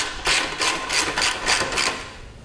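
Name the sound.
loosening half-inch bolts on Harley saddlebag support bracket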